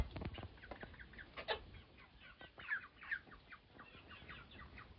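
Farmyard chickens and a rooster cluck in a small coop, with scattered short calls and a louder squawk, close by and overlapping with low background rustle.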